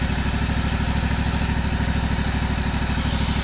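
A Toro lawn mower engine running after a remote start, a steady close throbbing idle with an even rapid pulse and no talk.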